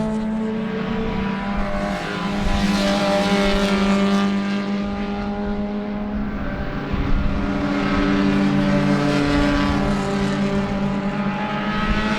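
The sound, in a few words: race cars passing at the Sebring enduro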